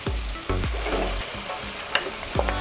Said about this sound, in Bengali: এবার এর মধ্যে দিয়ে দিই আমি ম্যারিনেটেড মটনগুলোকে।